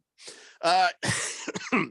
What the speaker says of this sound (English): Making you cough here?